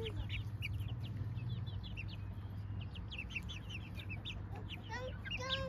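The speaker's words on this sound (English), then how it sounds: "Baby chicken." Baby chickens cheep in rapid, high overlapping chirps close by outdoors on a hill, a continuous chorus over a low steady hum.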